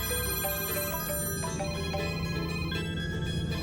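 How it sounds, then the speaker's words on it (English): A phone rings with a steady electronic tone, sustained and fairly even throughout, with no voices over it. "Then, out of nowhere, his phone rang."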